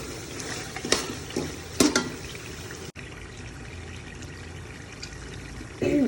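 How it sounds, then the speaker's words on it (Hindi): Water pours into a pot of frying beef for pulao, seven cups over the rice, with a few sharp splashes and sizzling bursts, then a steady low hiss of the pot. "4 कप हमारे पास चावल थे और नए चावल है इसलिए मैं इसमें 7 कप पानी डालूंगी।"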